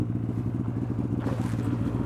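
A 160-horsepower snowmobile engine idling in Iceland, a loud, close, rough low rumble with steady pulsing, its pitch rising briefly partway through.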